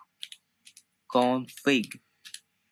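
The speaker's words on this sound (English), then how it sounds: "jump into a terminal and type" Several light computer keyboard keystrokes as a command is typed into a Linux terminal, short scattered clicks before and after a brief spoken word.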